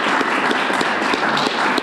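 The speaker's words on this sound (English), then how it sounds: "how about a nice round of applause for everyone." Audience applause at a city New Year 2011 celebration, a dense, steady wash of many hands clapping close by, holding evenly loud for the whole stretch.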